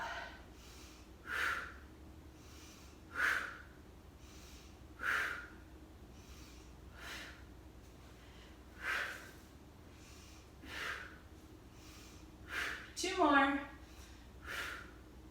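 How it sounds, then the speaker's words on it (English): Rhythmic breaths in and out during a Pilates floor leg exercise, about eight soft airy puffs roughly every two seconds, close and fairly quiet, with one sharper noisy exhale near the end. "Inhale, exhale."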